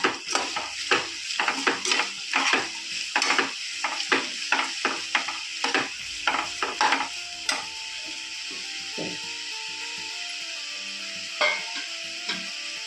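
Chopped beans, carrot and capsicum tumbled into a hot upma pan and stirred, a steady run of close scraping, clinking spoon strokes over a constant oil sizzle, the stirring thinning out toward the end with no talking.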